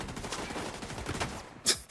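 Rapid, rattling gunfire from a firefight in The Division, a dense run of overlapping shots that fills the whole stretch before a brief lull and a sharper final burst.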